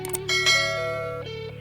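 A quick bright notification bell sound effect rings out, a few short metallic dings followed by a ringing tone that fades.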